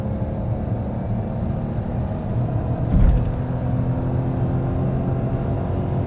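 Nissan Juke N-Design's 1-liter three-cylinder petrol engine pulling hard in third gear from about 90 to 120 km/h, a steady low drone and road rumble inside the cabin with a brief thump midway.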